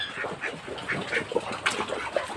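Farm poultry on a flooded Thai farm give repeated short squawks and clucks over a wet, noisy background, with several calls spread across a few seconds.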